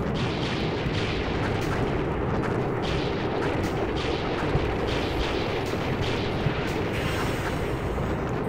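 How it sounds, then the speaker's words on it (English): Dense, continuous rumble of explosions from a bombing campaign in the wargame The Operational Art of War IV, a steady roaring wash of booms and blasts with no pauses. "the bombing campaign of Iraq is a massive bombing campaign"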